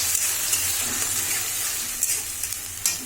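Ginger garlic paste frying for a meat curry: a steady, close hiss of sizzling in a pan, with a few stirring scrapes and small pops over three seconds.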